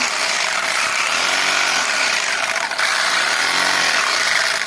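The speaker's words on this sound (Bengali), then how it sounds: "এই মেশিনগুলো এই দেখো সেলাই হয়ে যাচ্ছে" Generator-powered industrial sewing machines stitch geo bags, a loud continuous high-pitched mechanical whir with a steady buzzing drone, unbroken and close throughout.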